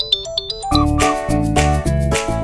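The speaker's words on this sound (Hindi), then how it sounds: "वो माया मैम के ऑफिस से फोन है।" A mobile phone rings with a melodic ringtone for a call from an office: a few short, bright chime notes open, then a fuller, louder tune with a steady rhythmic backing plays close up, with no voices over it.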